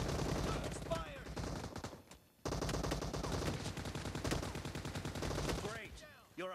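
Dense, continuous automatic gunfire rattles nonstop in a PUBG Mobile team deathmatch, breaking off briefly before resuming, with a game announcer's voice cutting in.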